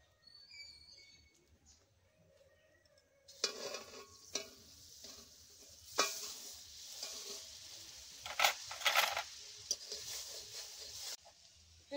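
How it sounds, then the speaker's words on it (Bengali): Amul butter sizzles and crackles in a hot wok, with soft stirring scrapes and bursts of frying hiss that swell loudly after a quiet start. "কড়াইয়ে আমি আমুল বাটারটা দিয়ে দিলাম।"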